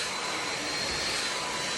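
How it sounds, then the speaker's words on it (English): Hair dryer blowing steadily while styling short hair at home, a constant close whooshing roar with no pauses. "the main thing I'm doing with the dryer is I'm getting my roots"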